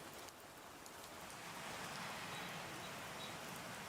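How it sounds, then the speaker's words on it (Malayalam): Heavy rain falls steadily over Thrissur city, a continuous broadband hiss that holds at a moderate level for the whole stretch with no voices. "നഗരത്തിലൊക്കെ വലിയ രീതിയിൽ മഴ പെയ്യുന്നുണ്ട്"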